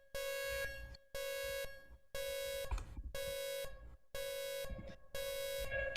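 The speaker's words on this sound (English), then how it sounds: "So I'm going to turn it from a drone into like a pulsing sound." A synthesized tone, live-coded in SuperCollider, pulses on and off about once a second, each buzzy harmonic burst trailing into a short reverberant tail before the next begins.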